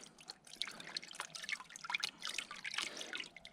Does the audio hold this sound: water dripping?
yes